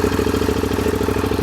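A hyper cruiser motorcycle engine runs with a steady, loud, close rumbling idle, its fast, even pulsing firing rhythm carrying alone without talk.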